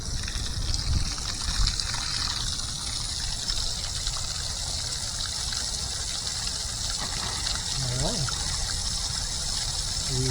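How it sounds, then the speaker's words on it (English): Water gushes steadily from an old irrigation pipe under a mid-century Florida house, a continuous broadband rush that holds at the same level throughout with a faint trickle beneath. "We have water flow."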